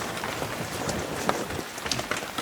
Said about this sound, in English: how hard it's raining outside right now.